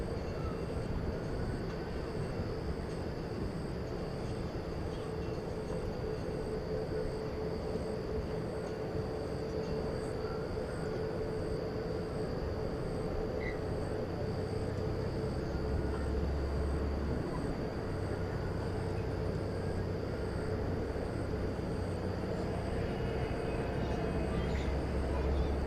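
An American Airlines airliner in the flagship 100th birthday livery, flight 78 bound for London, at Dallas Fort Worth airport, gives a steady distant engine rumble that swells slightly toward the end.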